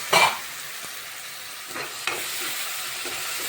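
Ground tomato paste being stirred in a pan of okra curry, opening with a sharp scrape of the spoon, then a steady soft sizzle with a few further stirring scrapes, close by and with no talking.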